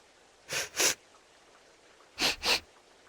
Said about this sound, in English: What are you two sniffing at?